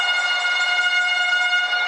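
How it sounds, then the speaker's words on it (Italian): A referee's whistle sounds at an Italian Cup Final Four wheelchair basketball game involving Cantù, a single steady, shrill tone held for about two seconds with no break. "Arriva un altro fischio."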